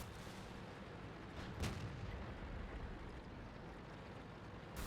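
A tank cannon firing in World of Tanks: one sharp blast partway through over a steady rumble of engine and battle noise, with another burst at the very end.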